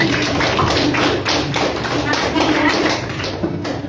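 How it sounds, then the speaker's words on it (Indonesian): Classroom students clapping for a classmate who gave a correct answer, a dense run of overlapping hand claps filling the room, with voices underneath. "Coba kasih tepuk tangan dulu."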